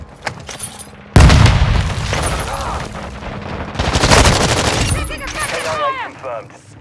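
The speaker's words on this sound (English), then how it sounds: "Throwing grenade! On your six!" A grenade explodes with a sudden loud boom in a shooter video game, followed by sustained rapid gunfire and a second swell of shots and blasts, all close and intense.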